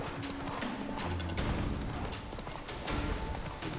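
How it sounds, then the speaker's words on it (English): Horses gallop in The Witcher 3: Wild Hunt, a dense, continuous clip-clop of hooves close by with occasional heavier thuds layered over a busy game soundscape. "There's a bunch of horses over there, though."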